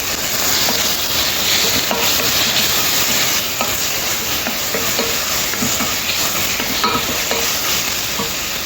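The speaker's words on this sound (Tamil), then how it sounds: "போட்டு நல்லா வதக்குவோம்." Chili powder and ginger-garlic paste with chilies stirred and sautéed in a pan for chicken curry, giving a steady loud sizzle and fry hiss with scraping stirs throughout, no voices.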